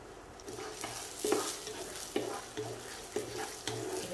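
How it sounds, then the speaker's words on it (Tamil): Coriander seeds, fenugreek and four dried red chillies roast dry in a pan for ground-masala sambar, with a faint rustling sizzle and regular scraping stirs at a steady pace, nobody speaking. "இது நல்லா வறுத்துக்கணும்."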